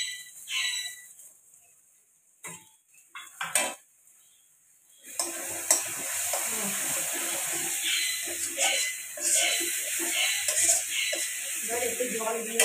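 Green peas drop into hot ghee in a wok and start to fry, a few utensil clinks giving way to a loud, steady sizzle and hiss that fills the rest of the moment.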